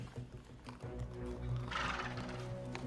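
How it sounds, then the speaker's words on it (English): Hooves of a riderless horse clip-clop at a steady walking pace against a faint outdoor backdrop, moderately close, with no talking. "the killer has sent an unmanned horse to deliver his or her murderous message"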